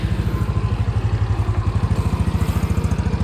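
A Yamaha Xeon GT125 scooter engine runs steadily at idle, close by, with an even, rapid low putter and a light mechanical clatter, no voices.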